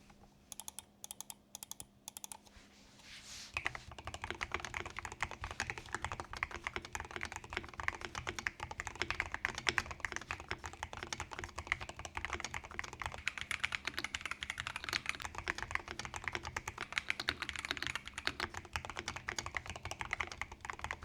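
Rapid typing on a Razer BlackWidow V4 Pro 75% mechanical keyboard with ceramic keycaps and Milky Yellow switches, a dense stream of close, clacky keystrokes after a few isolated taps at the start.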